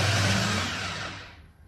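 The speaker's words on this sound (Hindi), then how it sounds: "अब मैं इसको ब्लेंडर से ब्लेंड करूंगी" A kitchen blender whirs loudly through chutney ingredients as a steady, dense roar that winds down and fades over its last half second, with no talking.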